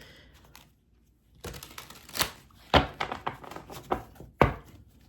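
Tarot deck being waterfall shuffled by hand, a series of sharp card riffles and taps arriving in quick irregular bursts, close and fairly quiet.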